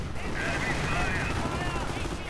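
Anti-tank guns fire at a Panzer in a World War II strategy video game, a dense rumbling clatter of distant gunfire and explosions continuing throughout the short battle scene.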